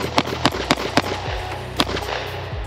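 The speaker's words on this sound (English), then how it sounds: "this will be my first 6 rounds out of the gun" Six rapid pistol shots from an HK P30S DA/SA fired in a quick bill drill, sharp close cracks in a fast uneven rhythm with short echoing tails and no talking.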